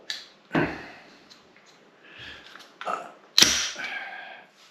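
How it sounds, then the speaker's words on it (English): Bolt being pulled out of a Remington 6.8 SPC rifle: a few separate, loud metallic clacks and scraping slides close by, with a faint creak between them. "Pull the bolt out of this."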